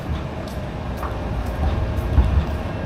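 A Sheffield tram passes along its rail line in the city, a steady low rumble that swells slightly toward the end.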